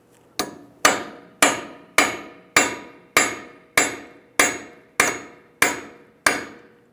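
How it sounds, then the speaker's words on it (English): A hammer strikes a metal punch eleven times in a steady, even rhythm, each blow sharp and ringing with a short decay, separating a Volkswagen Beetle's front CV axle from the hub. "Just going to take a punch and a hammer."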